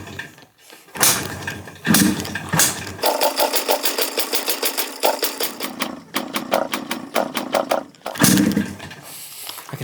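A restored machine's engine is cranked without starting fluid. It turns over in a fast, loud, rhythmic chugging pulse, broken into several attempts with short gaps between, heard up close.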